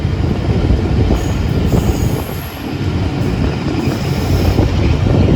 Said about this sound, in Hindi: और इधर देखें ये ट्रेन है।